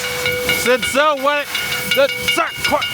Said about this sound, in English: So what the train does, it goes all the way to the back there and then pulls forward